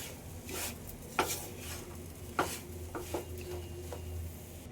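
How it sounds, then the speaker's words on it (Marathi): Semolina and sugar being stirred in a pan for pineapple shira, quiet scraping and rubbing with a few sharp spoon knocks against the pan. "साखर टाकल्यानंतर आपण छान असं परतून घेऊया."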